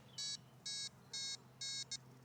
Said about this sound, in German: obwohl ich gar nicht mehr weiter steige, piepst es immer noch